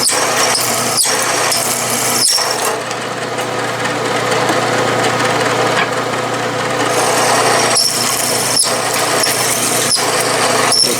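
Metal being drilled on a machine while building a wobbler steam engine, heard as a continuous close grinding whir with chips flying and a few sharp breaks and clicks in the steady drone.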